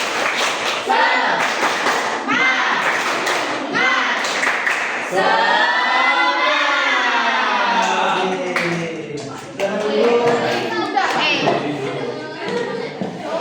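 Students in an Indonesian classroom lesson perform a rhythmic chanted "spirit clap" routine, with loud patterned clapping mixed with group voices chanting and a teacher speaking throughout.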